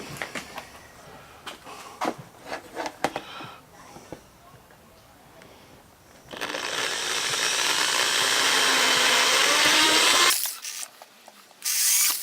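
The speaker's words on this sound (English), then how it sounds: "I need to drill." Power drill boring holes for lights on a KTM 300XC dirt bike, a loud steady whine running for about four seconds after scattered handling clicks and taps, then stopping abruptly with a short burst near the end.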